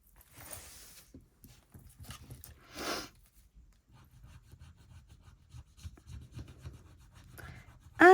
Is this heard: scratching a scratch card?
yes